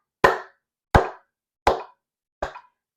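Four hand claps evenly spaced at a slow metronome tempo of 80, each a sharp near slap with a short decay, the last one slightly softer, with silence between.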